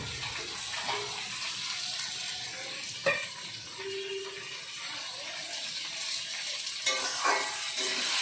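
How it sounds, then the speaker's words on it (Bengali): Thick-cut potatoes frying in oil, a steady soft sizzle with occasional clinks of a spatula stirring them in the pan, close and continuous with no talk. "এখন মোটা মোটা করে আলুগুলো কেটে নিয়েছি আলুটা ভেজে নিয়েছি"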